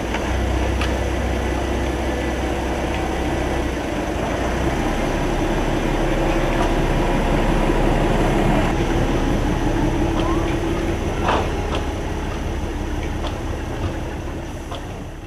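Steam locomotive 52 8079 runs with a loud, steady rumble and clatter of wheels on rails, continuing unbroken throughout.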